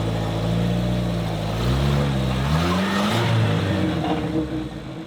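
Jeep engine revving as it climbs a rocky off-road trail in Moab, a loud low drone rising and falling in pitch through several throttle pushes, close and steady with no talk.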